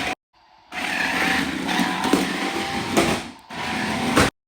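Toy remote control car with a built-in engine sound effect, a buzzing electronic engine drone starting after a brief silence, holding fairly steady with small rises and a short dropout near the end.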